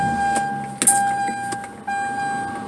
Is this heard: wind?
no